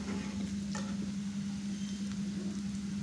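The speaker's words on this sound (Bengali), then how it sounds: "দেখতে পাচ্ছেন পেঁয়াজটা কিন্তু ভাজা হয়ে গেছে।" Onions fry in oil in a pan for a tengra fish curry with tomato and potato, a steady close sizzle with a low hum beneath and occasional stirring scrapes, no talking.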